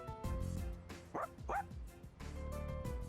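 A dog in the Persona 3 Reload video game gives several short, close yips and bow-wows, with a couple of whimpering rises in the middle, over background game music.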